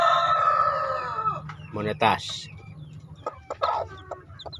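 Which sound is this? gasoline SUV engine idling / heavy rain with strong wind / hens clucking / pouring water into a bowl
hens clucking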